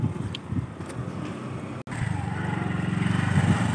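A scooter hums along steadily while being ridden, a moderately loud, even motor drone with faint road and wind noise, broken by one brief dropout midway.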